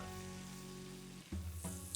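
A roux of butter and wheat flour sizzles steadily in a pan as it browns, with a constant close hiss that is briefly broken by a couple of stirring bumps.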